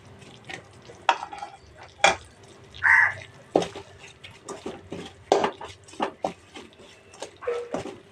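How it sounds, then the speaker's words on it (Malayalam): A spoon stirring a mango pickle mixture in a pan, with scattered scrapes and sharp metallic clinks against the pan at irregular intervals over a quiet background. "കുറച്ച് നേരം ഇങ്ങനെ മിക്സ് ചെയ്തുകൊണ്ടിരിക്കുക"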